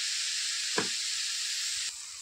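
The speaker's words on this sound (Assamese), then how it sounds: "কম জুই দি বহুত সময় লৰাই থাকিব লাগিব, যাতে নাৰিকলটো ভাজা হয় আৰু এইপিনে চেনিটো গলি যায়।" Grated coconut and sugar frying in a pan over low heat while being stirred: a steady, even sizzling hiss, broken by one short scrape of the spoon.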